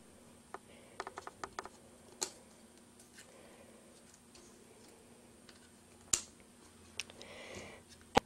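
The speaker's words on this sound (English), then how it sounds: "A click should be heard." Adhesive standoffs snap into a radio with several small, sharp clicks, first a quick cluster and then scattered louder clicks, close and quiet.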